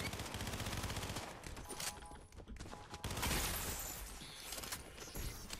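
Rapid bursts of gunfire crackle in a Fortnite match, dense repeated shots filling most of the stretch with a short lull in the middle, loud and close with no talk.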